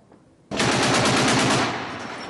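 Rapid automatic gunfire rattles out at Donetsk airport, a sudden loud burst of quick repeated shots with a trailing echo.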